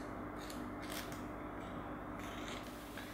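Scissors snipping gold leaf sandwiched between sheets of tissue paper while cutting it into small pieces for decorating a cake; a couple of soft, faint, papery cuts close by in a quiet room.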